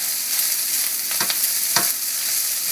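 Egg and rice frying together in a pan for fried rice, a close, steady loud sizzle with a couple of brief stirring scrapes.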